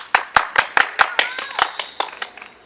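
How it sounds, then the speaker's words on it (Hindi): Sharp, evenly spaced hand claps ring out close by in a classroom, about a dozen in a steady rhythm, with a voice faintly audible in the background. "ताली ताली आए इसके लिए"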